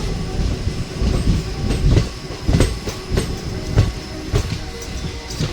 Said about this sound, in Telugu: ఇది లోకల్ ట్రైన్